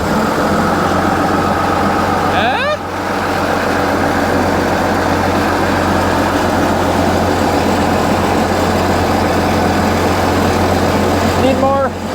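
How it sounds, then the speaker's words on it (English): An International TD15C crawler dozer's engine runs steadily after starting, a loud, even, low rumbling idle that holds throughout with a faint mechanical whine now and then. "We'll start it up and see if that worked at all"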